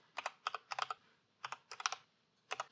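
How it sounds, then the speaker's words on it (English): Bursts of typing on a computer keyboard while entering a Windows 11 command to remove provisioned Appx packages, quick clustered keystrokes in several short runs with brief pauses, close and clear with no talking. "We're going to type in remove dash Appx"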